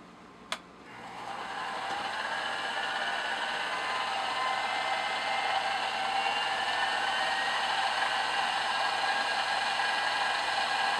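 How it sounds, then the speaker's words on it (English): A metal lathe takes a very slight facing cut on a small engine base casting, a steady, bright, hissing whir that holds evenly after a brief click at the start. "Just going to touch off on this and just take a very slight facing cut."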